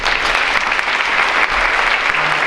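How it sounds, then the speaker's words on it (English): Steady, loud applause for a high school choir at a Veterans Day ceremony, filling the room evenly with dense clapping from start to finish. "Please join me in a round of applause to the Ludlow High School Choir"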